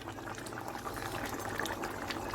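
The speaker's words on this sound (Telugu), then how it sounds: "చూసారా ఎలా బాయిల్ అవుతుందో ఉడుగుతుంది" Country chicken curry bubbles steadily in a pot, a continuous close-up simmering and popping texture with no voices.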